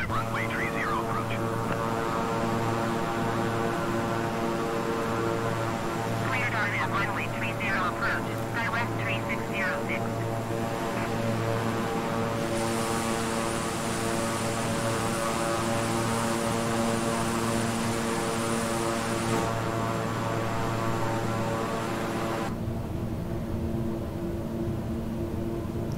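The twin propeller engines of a King Air 350i in Microsoft Flight Simulator drone steadily with strong harmonic tones, a tonal layer shifting partway through, while a voice briefly speaks over it.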